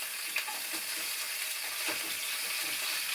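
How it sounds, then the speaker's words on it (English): Brats browning in a pan on a cabin stove, a close, steady crackling sizzle with faint scattered pops and no voices. "So hot I'm browning my brats on the stove instead of building a fire."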